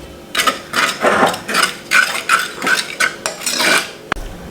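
Garlic pickle is mixed in a pan, producing a series of rhythmic metallic scrapes and clinks of a spoon against the pan, ending with a sharp knock, heard close with no talking.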